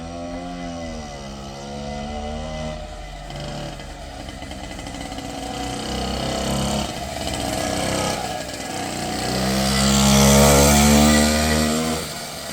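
An Avanti X-Bike motorcycle engine, started up after winter, runs steadily with a buzzing idle, then revs up louder near the end and settles again, with no talk over it.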